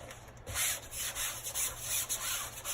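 Hand rubbing and smoothing a chalk stencil transfer flat onto a surface, soft rhythmic swishing strokes repeating close to the microphone, quiet and steady.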